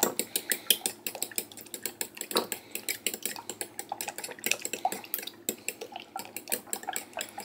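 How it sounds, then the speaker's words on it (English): Six eggs being whisked in a bowl for a freeze-dried breakfast skillet, rapid rhythmic clinks of a whisk against the bowl with light liquid sloshing, close and steady, no talking. "I'm going to just give those a quick whisk."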